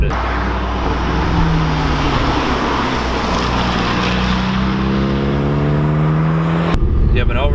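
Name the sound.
APR tuned Volkswagen GTI Mk6 driving through a corner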